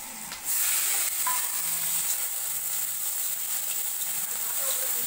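Panch phoron, green chilli and bay leaf hit hot oil and start frying, bursting into a loud continuous sizzle after a brief quiet start, with faint crackles and stirring underneath.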